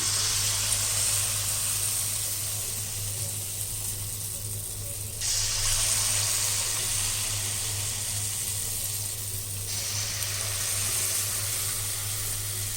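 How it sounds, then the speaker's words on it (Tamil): Small balls of Mangalore bonda dough fry in hot oil with a steady, close, hissing sizzle that holds for the whole stretch, its brightness shifting a little at a couple of points. "இப்போ எண்ணெய் காஞ்சிடுச்சு இப்போ நம்ம வந்து இந்த மாவுலேருந்து எடுத்து சின்ன சின்ன உருண்டையாக எடுத்து போடணும்"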